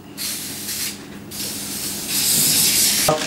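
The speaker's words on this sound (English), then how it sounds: "I've sprayed my container with cooking spray" Two short hissing bursts from a can of cooking spray coating a container for bread dough, the second longer and louder, with a faint clink at the end.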